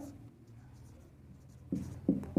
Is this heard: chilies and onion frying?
no